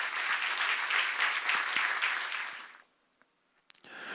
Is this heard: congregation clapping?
yes